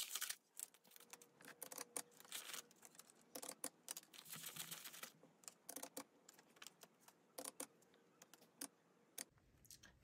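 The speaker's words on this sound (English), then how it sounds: "Yeah, let's go ahead, count the money" Paper cash bills are counted by hand at a table in a quiet room, making soft, irregular flicks and crisp snaps close to the mic, paced in uneven bursts with brief pauses and no voices.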